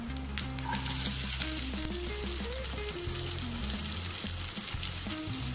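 Roughly chopped onion goes into hot oil and sizzles loudly and steadily up close, with stirring scrapes over a faint tonal background.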